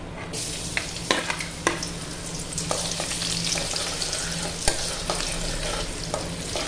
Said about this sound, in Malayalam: നമുക്ക് ആദ്യമേ ഇഞ്ചിയും വെളുത്തുള്ളിയും കൂടി ഒന്ന് വഴറ്റിയെടുക്കാം